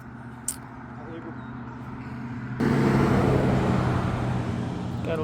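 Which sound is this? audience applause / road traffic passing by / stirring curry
road traffic passing by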